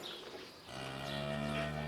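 A dairy cow in a barn gives a single loud, drawn-out moo, rising out of a quiet, rustling background and held steadily until the end.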